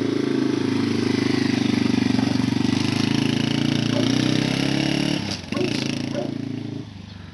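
A dirt bike engine runs loudly nearby with a steady buzzing idle, briefly dipping and sputtering before picking back up.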